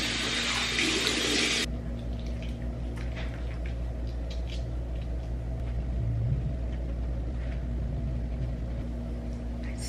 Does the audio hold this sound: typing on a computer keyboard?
no